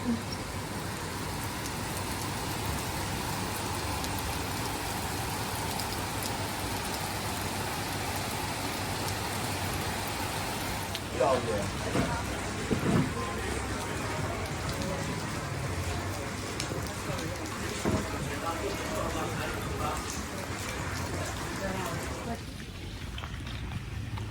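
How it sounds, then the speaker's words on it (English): Heavy tropical rain pours steadily on Koh Samui, Thailand, a dense continuous hiss with drops spattering on nearby surfaces, holding loud and unbroken throughout with slight swells midway. "You can see this is tropical rain."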